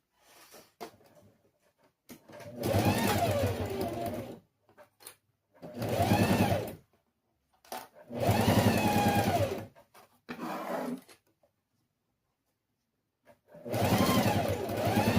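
A sewing machine stitches a fabric pencil case in four long, close, steady whirring runs, separated by silent pauses and a few short bursts.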